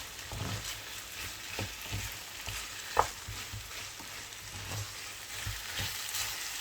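A spoon stirs vermicelli pilaf with chicken and vegetables as it fries in a pot, giving steady scraping and stirring strokes over a soft sizzle, with one sharp clink partway through.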